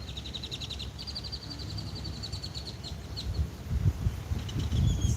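Loud birds call outdoors near a pond, with short bright chirps repeating in quick runs over steady low background rumble, and no talking.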